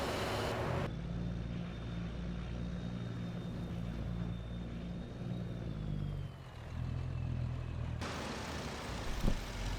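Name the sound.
vehicle driving in video game Farming Simulator 25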